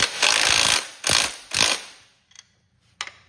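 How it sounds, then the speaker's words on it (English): A ratchet wrench with a 9/16 socket tightens 3/8 bolts on a Cub Cadet Cyclops 1440 lawn tractor transmission. Three loud, close ratcheting bursts come in quick succession, followed by two brief quiet clicks. "We're going to tighten the front ones first."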